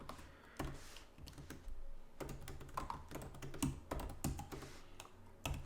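Computer keyboard typing while coding Java, rapid irregular clicky keystrokes in bursts, close and fairly quiet, with no talking.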